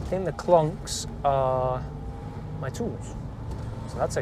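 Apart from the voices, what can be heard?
No distinct noise like a dog, phone or traffic.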